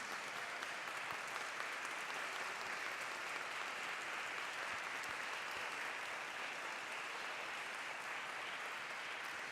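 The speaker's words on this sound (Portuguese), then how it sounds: "E eu queria uma salva de palmas para a Fátima." Steady, dense applause from an audience at a public debate session, honouring a woman named Fátima, a continuous even wash of many hands clapping at moderate distance throughout.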